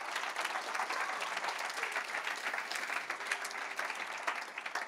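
Sustained applause from an audience at an eighth-anniversary celebration, dense steady clapping filling the whole stretch at moderate loudness with no voices over it.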